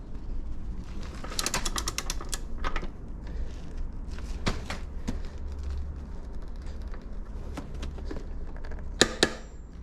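A torque wrench set to 108 newton metres, tightening during chain slack adjustment on a Kawasaki Z650, gives a few sharp mechanical clicks against a steady low rumble, with a distinct double click near the end.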